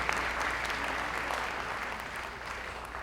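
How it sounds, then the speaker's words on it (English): A seated audience applauds steadily for the sponsors at a seniors' talent show in Chattanooga: a dense, continuous wash of many hands clapping that holds fairly even for about three seconds, with no talk over it. "I know it's a lot of round of applause, but we love it."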